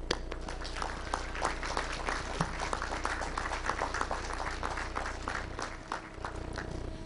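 An audience claps steadily at a college engineering commencement ceremony as the Ford Motor Company keynote speaker is welcomed. The applause is moderate and even throughout, with a low hum underneath and no voices.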